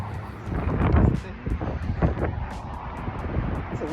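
Wind gusts across the microphone outdoors at the Minnesota Sculpture Garden, a rumbling buffeting that swells and eases, with a voice speaking briefly underneath.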